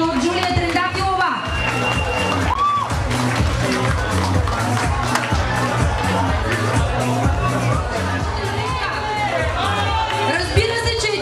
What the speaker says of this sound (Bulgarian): Аплодисменти за номер едно, която получава короната от мис Хасково Джулия Трендафилова.